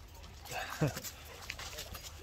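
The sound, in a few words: dog whimpering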